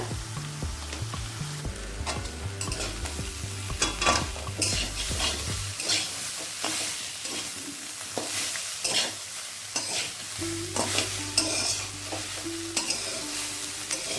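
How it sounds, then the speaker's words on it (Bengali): Chopped banana flower stir-fried in a pan for a fish-head mochar ghonto, with continuous sizzling and repeated scraping of the spatula over a faint tonal background. "মোচাটা ভাজা হয়ে গেছে"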